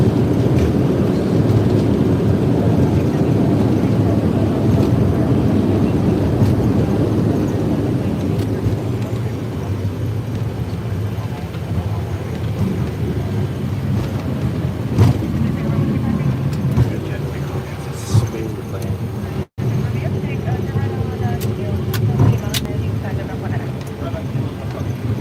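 A Boeing 737 private business jet lands as heard from inside the cockpit, with a loud, steady roar of engine and airflow that eases a little over time, plus a few thumps and clicks near the end.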